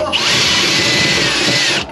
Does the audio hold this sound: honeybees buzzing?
no